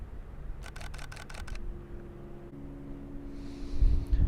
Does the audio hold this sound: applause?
no